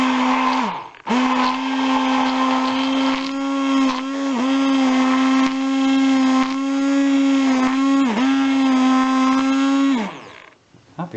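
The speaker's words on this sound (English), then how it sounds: "I'm now going to try the hand blender doing this instead of whisking it" A hand blender beating eggs whirs loudly and steadily for about ten seconds, its motor pitch dipping briefly a few times before cutting off.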